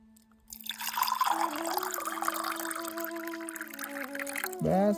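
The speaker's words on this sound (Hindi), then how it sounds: "इसमें पानी डालते" Water poured into a glass, a steady liquid trickle that starts after a brief quiet moment and runs continuously, with a rising gurgling tone as the glass fills and a short clink near the end.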